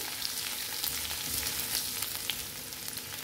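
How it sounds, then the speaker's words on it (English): A teaspoon of grated ginger frying in a pan on low heat for a lauki bharta, a continuous soft sizzle with faint stirring, close and steady across the short stretch. "lower the heat and add in grated ginger, 1 teaspoon, cook till the raw smell goes away."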